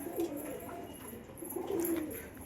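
Pigeons at a pigeon house coo softly in low, repeated throaty bursts, quiet and nearby, with faint chirps in the background.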